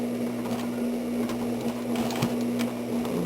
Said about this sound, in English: So we stitch it down. You have to kind of hold it because it's really thick.